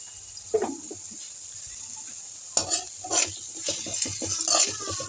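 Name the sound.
onions and green chillies frying in oil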